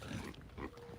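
Pigs grunting at an animal sanctuary, a few low, rough grunts close by, with faint background noise and no clear talking.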